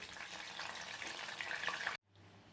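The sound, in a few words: frying fasting potato patties (upasache patties)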